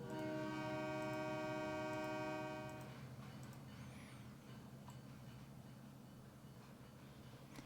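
Freight train of cylindrical hopper cars carrying wheat and potash in a train simulator game, with a loud sustained multi-tone horn blast for about three seconds over a steady rolling rumble that continues afterward.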